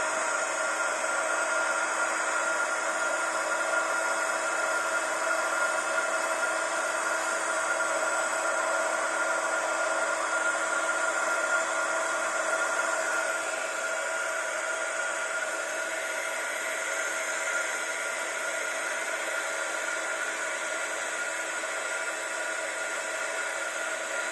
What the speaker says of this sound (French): je reprends mon heat gun et je viens. Excusez-moi, ça me fait du bruit